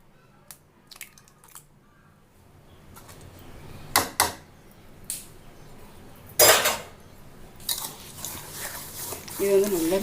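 Egg is mixed into oil-based brownie batter in a bowl, with irregular clinks and scrapes of a utensil against the bowl, some louder knocks, quiet between strokes.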